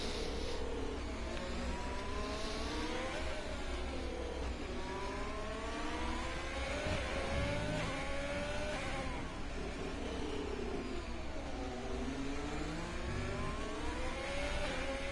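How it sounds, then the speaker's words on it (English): Race car engine in a sim racing game at Brazil, with continuous revving, rising and falling pitch sweeps as it downshifts and accelerates again, loud and steady throughout with no talk. "Downshift to fourth, back on the throttle."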